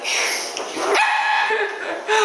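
A dog gives a few short, high, yipping barks and whimpers up close, bursts separated by brief pauses, with no talk over them.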